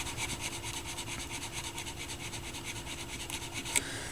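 Faint, steady rubbing and scrubbing as grease is cleaned off a part of a Pioneer PL-117D turntable, a quiet repetitive scratching with one small click near the end.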